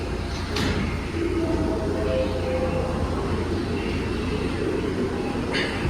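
New York City subway 4 and 6 trains pull into a Manhattan station together, a sustained underground rumble with faint metallic squeals and brief high hisses, fairly close.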